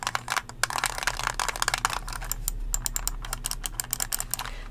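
Typing on a computer keyboard comes through close and crisp, dense runs of clicking keystrokes with short pauses between bursts and no talking.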